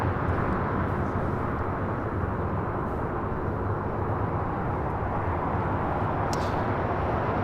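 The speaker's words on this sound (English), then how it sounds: "This is Delta 715 taking off to Atlanta on an A321." A Delta Airbus A321 airliner takes off at LAX, its jet engines producing a steady, loud broadband roar that holds constant throughout without any talking.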